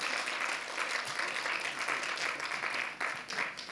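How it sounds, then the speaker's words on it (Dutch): Steady, dense applause from an audience at a dictation contest rewards the correctors, holding evenly throughout with a brief dip near the end. "een groot applaus voor de correctoren en Corine"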